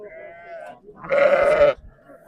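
Large sheep at a livestock sale give a short bleat, then a louder, longer, strained one close by, with a faint voice and crowd noise around them.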